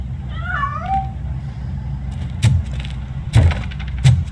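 A cat gives a short meow early on in RoboCop Rogue City, followed by three sharp thumps or knocks spaced apart over a low background hum.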